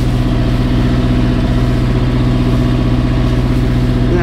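A boat engine revving as the vessel goes astern on a waterway, a loud, steady, close mechanical drone with a constant low hum and no talk over it.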